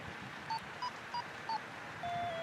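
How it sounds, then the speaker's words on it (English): A FrSky Archer GR8 radio-control receiver emits short electronic beeps, four evenly spaced tones, then a longer sustained tone at the end, faint and clean over a steady background hiss. "When I go up, you hear the tones rise in pitch."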